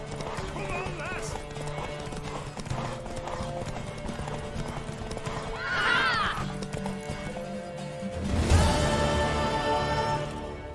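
Hoofbeats of a galloping mare in The Witcher 3: Wild Hunt, a steady clip-clop run with whinnies and neighs partway through, set against game music and background sound.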